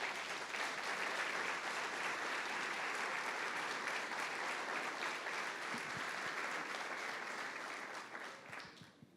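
A church congregation claps together during a sermon, a loud, thick wash of applause that holds steady for several seconds before tapering off near the end.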